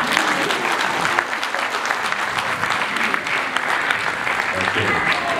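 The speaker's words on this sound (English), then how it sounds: "I thought you would give me some claps." Audience at a school graduation ceremony clapping, dense steady applause throughout, fairly loud and close with a faint murmur of voices underneath.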